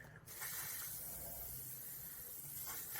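Rust-Oleum 2X Ultra Cover paint and primer sprays from an aerosol can onto a rusted car at a car wash, a close, steady hiss lasting a few seconds without a break.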